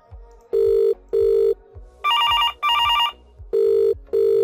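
A telephone rings during a test call on a SIP PBX system, a loud, clear electronic ringtone of short repeated tone bursts with a warbling pair in the middle, separated by brief silences.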